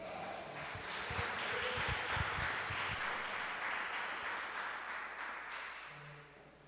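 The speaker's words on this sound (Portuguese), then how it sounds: "Você pode aplaudir ao Senhor?" A church congregation applauds during a celebration service, a broad wash of clapping that swells and holds steady before slowly thinning toward the end, with a low tone entering near the close.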